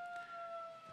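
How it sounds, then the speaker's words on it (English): A siren sounds at the Arica Challenge 2012 bodyboarding trials in Arica: a steady two-tone wail held for about a second, fairly loud over faint background noise and crowd ambience. "there goes the siren"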